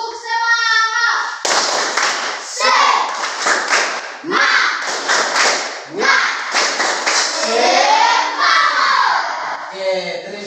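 Schoolchildren in a classroom perform a rhythmic spirit clap, tepuk semangat, loud patterned bursts of clapping and thumping interleaved with shouted chants, in repeated phrases after a brief spoken cue at the start.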